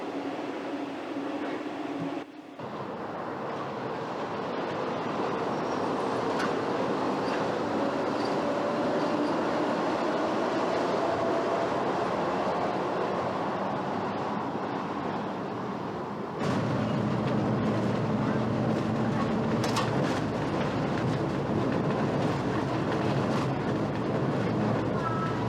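An electric train driven by eight electric motors on 700 volts, one per pair of drive wheels across four cars, runs with a steady rumbling whine and rising motor tone, a brief drop near the start and a louder shift midway.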